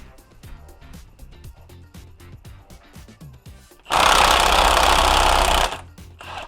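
Milwaukee brushless impact wrench with a heavy harmonic balancer socket zipping off the crank bolt on a K24 engine: a loud, steady burst of roughly two seconds, following a stretch of light clicking and ticking.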